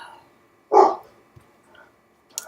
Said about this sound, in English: Excuse my dog, she's barking.